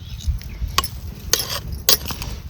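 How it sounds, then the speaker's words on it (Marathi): Cooked pavta (field bean) rice being stirred in a metal pot, with faint scraping and several brief clinking knocks of a spoon against the pot over a low steady background. "आता ही घेते खाली पातीलं आणि परत आपण हलवून घेते मी."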